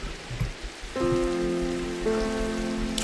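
Rain hisses steadily in a Minecraft game, a soft, even wash of noise that continues while sustained music tones enter partway through.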